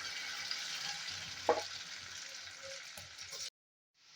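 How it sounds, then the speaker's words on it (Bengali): Soya chunks coated in gram flour and cornflour batter fry in hot oil with a continuous soft sizzle, one brief utensil clatter midway, then the sound stops abruptly. "ওই সয়া চাংগুলো ভেজে নেব, ভালো করে ভেজে নেওয়া হবে।"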